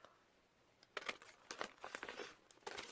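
Scissors cutting through junk mail paper at close range, a short run of quiet crisp snips and crinkling rustles, with no voice.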